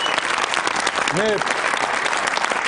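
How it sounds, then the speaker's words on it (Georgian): A studio audience bursts into dense, steady applause for ballet dancer Nino Ananiashvili on a Georgian late-night talk show, sustained throughout with a brief vocal tone rising over it. "თქვენ აპლოდისმენტები რატო არ მიუძღვენით ნინოს 30 წელის სცენაზე"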